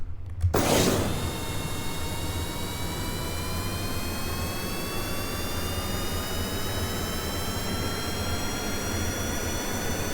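Small jet engines of a plane in Kerbal Space Program roar steadily after a sharp start, a continuous whine whose pitch slowly rises as thrust builds.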